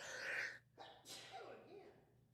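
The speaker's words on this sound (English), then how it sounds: "Man, I'm sneezing" A man sneezes during a Sunday morning Bible study, one sharp burst followed by breathy exhaling and a faint vocal noise, close to the microphone over a low steady hum.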